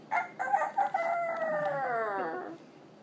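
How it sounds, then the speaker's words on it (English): A rooster crows once, close and clear, with a long, drawn-out cock-a-doodle-doo that fades at the end. "The rooster crowed."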